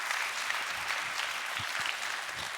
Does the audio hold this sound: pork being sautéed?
no